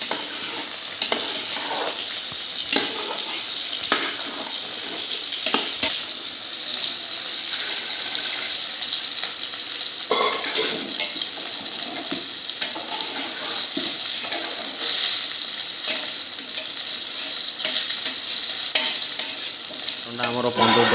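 Mutton and masala fry in hot oil for an Odia-style mutton curry, sizzling steadily while a spoon scrapes and stirs the pan in repeated strokes, close up and continuous.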